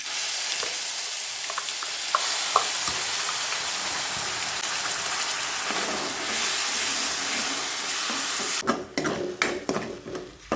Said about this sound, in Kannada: ಇದು ಖಾರ ನೋಡಿ ಎಣ್ಣೆಯಲ್ಲಿ ಫ್ರೈ ಆಗಬೇಕು